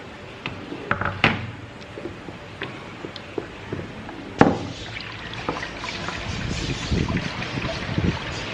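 Homemade tamarind paste goes into a pan with soft wet trickling and splashing, broken by scattered sharp clicks and knocks of utensils against cookware. It sounds close and moderately quiet.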